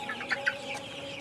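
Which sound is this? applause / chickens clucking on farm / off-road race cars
chickens clucking on farm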